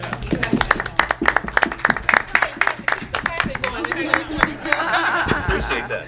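Scattered hand clapping and light laughter from a small group at a village board meeting, mixed with murmured talk and a steady low hum in the room.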